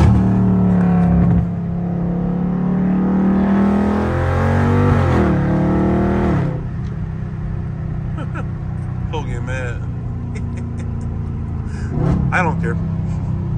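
Dodge Scat Pack car accelerating hard in traffic from inside the cabin, loud engine roar climbing through gears with a sharp rev change midway, then easing to a lower drone while people talk over it.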